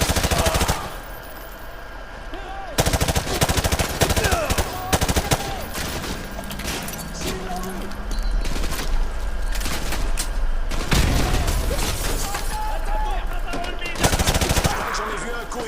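Rapid automatic weapon bursts and single shots ring out in Call of Duty Modern Warfare 2 during a school-building firefight, coming in loud clusters separated by brief lulls, with a voice speaking between them.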